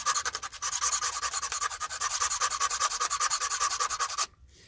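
Rapid, rhythmic scraping across the striker strip of a matchbox: a fast run of even rasping strokes, close and fairly loud, continuing for about four seconds before stopping abruptly.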